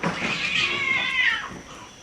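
Cats fighting outdoors, a single close, loud drawn-out caterwaul that rises and wavers, then trails off.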